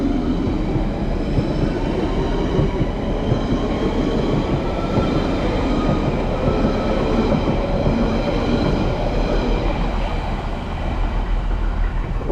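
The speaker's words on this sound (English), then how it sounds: "going out now is a central line service going to Epping" A London Underground Central line train pulls out of Greenford, a steady loud rumble of wheels and motors with faint clickety-clack running continuously throughout, no voices.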